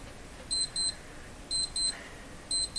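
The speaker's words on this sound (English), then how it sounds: "The beeping will stop in a moment." An alarm clock beeps in quick pairs of high electronic tones, the double beep repeating about once a second at moderate volume over faint room noise.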